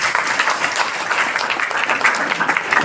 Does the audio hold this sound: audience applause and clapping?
yes